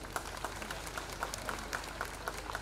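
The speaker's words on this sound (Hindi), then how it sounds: "मैं चाहूंगी कि एक जोरदार ताली इस परिवार के लिए हो जाए।" Applause from a gathered audience at a park inauguration ceremony, a steady wash of clapping hands sustained throughout at moderate distance.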